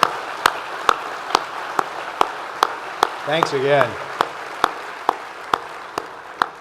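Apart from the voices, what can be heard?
audience applause for jazz choir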